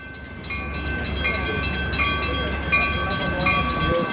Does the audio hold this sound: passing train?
yes